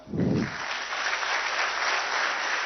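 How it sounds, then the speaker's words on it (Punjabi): A crowd bursts into loud applause at a government job appointment letter ceremony, starting with a sharp swell and then continuing as steady, dense clapping to the end. "ਜ਼ੋਰਦਾਰ ਤਾੜੀਆਂ"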